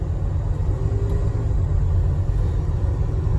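A 1975 Ford Mustang II Ghia cruises down the road, its engine a steady low rumble blended with road and wind noise from inside the car, constant and fairly loud with no breaks.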